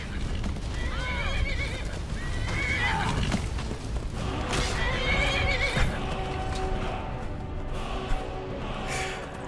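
A horse in Skyrim neighs and whinnies loudly several times over clip-clopping hooves and combat clatter, with sharp thuds scattered throughout.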